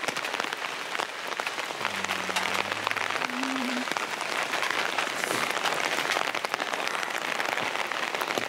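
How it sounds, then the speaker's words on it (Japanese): Steady rain falls outdoors in a dense, continuous hiss that fills the whole stretch, with a brief low tonal hum rising early on. "雨だし。"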